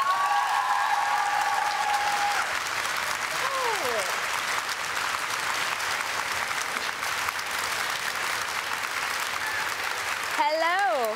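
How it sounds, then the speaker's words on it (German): Sustained applause from a live show audience welcoming guest authors onto the stage at a book event, a dense steady clatter throughout with short musical tones near the start and end. "Deswegen jetzt ein ganz, ganz großer Applaus."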